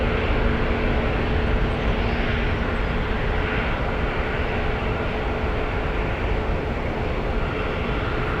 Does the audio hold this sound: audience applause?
no